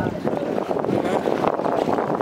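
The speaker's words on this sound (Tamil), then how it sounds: "இன்ஜின் ஸ்டார்ட் பண்ணி ஓடுது." A large fishing boat's engine runs steadily as the vessel backs off the beach into the sea, a loud continuous rumble mixed with wind buffeting the microphone.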